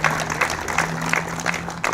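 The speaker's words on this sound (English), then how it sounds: "Give her a round of applause." Crowd applause breaks out at an outdoor downtown trolley ribbon-cutting ceremony, a steady dense patter of clapping over a low hum, continuous for the whole stretch with a few sharper bursts near the end.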